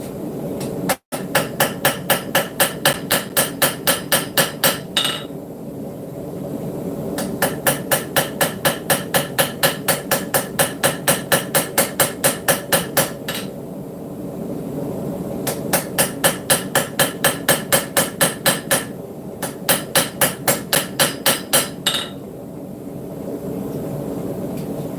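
Rapid, ringing metallic strikes of a small ball peen hammer forging a knife blade on an anvil, delivered in four long bursts of steady blows separated by short pauses, close and loud over a constant background hum.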